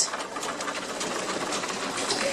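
A foot-powered treadle sewing machine runs steadily at a sewing school during a power cut, a continuous mechanical whirring and rapid clatter heard up close without speech.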